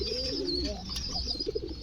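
Soft pigeon coos murmur close by at a pigeon market in Gazipur, low and rolling, with a faint high chirping in the background.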